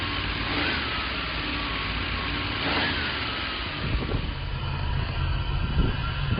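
A 1979 Dodge Lil Red Express truck runs steadily nearby on its first drive after carburetor and timing work, its engine a loud, continuous mid-pitched rumble that swells slightly partway through.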